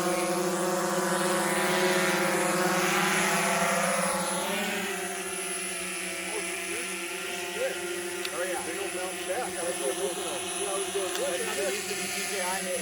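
A propeller-driven model airplane drones nearby with a steady buzzing whine that drops in pitch partway through as it eases off, while people talk over it.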